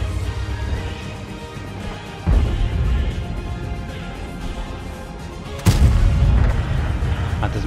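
Two heavy booming shots from a T-10 heavy tank cannon in a tank battle game, each a sudden loud low blast followed by rumbling decay, spaced a few seconds apart over continuous engine and battlefield ambience.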